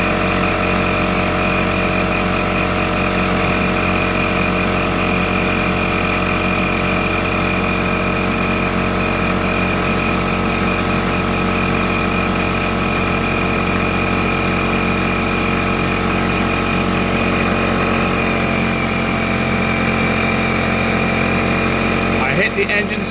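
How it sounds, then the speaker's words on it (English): A vehicle engine idles steadily to power a 2000W Redodo inverter under heavy load, a loud continuous hum with constant tonal whine and no pauses throughout. "I hit the engine start. That should give us a little bit more power."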